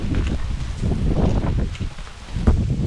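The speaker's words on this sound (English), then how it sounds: "We got high winds out of the northwest right now." Strong gusting wind buffets the microphone outdoors at a windy northwest-blown duck hunt, a steady low roar with rustling swells and a sharper gust near the end.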